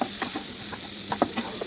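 Chopped onions sizzle in white oil and butter in a wok for dhaba-style matar paneer, a soft steady hiss with a few brief scraping stirs, close and alone.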